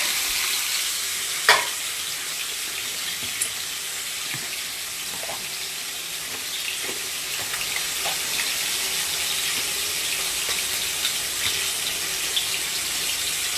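Fish frying in a pan, a continuous bright hiss of hot oil with scattered small pops and spits, steady and fairly close, no talking.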